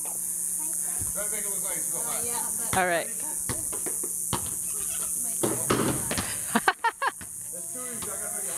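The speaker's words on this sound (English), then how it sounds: "this sound is cicadas, right?" Cicadas drone outdoors at a residential house in a constant high-pitched buzz that runs steadily beneath people chatting nearby.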